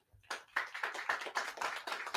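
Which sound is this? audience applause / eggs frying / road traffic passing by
audience applause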